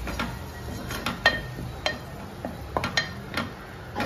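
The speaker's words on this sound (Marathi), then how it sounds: "आता हे पूर्णपणे मिक्स करायचंय" A spoon stirs prawn gravy masala in a metal pan, giving irregular scraping clinks and taps close up at a moderate level, with no talking.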